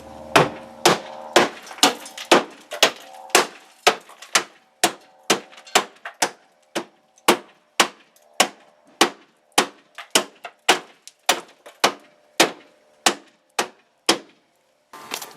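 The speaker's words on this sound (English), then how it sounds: "with each swing of the hammer, this metal is pretty soft" Heavy hammer blows on the soft metal rear fender of a 1999-2004 Jeep Grand Cherokee during a Bushwacker fender flare install. About two dozen sharp, ringing whacks land in a steady, even rhythm, close and loud, with no talking.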